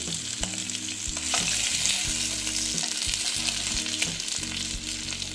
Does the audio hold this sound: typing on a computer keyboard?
no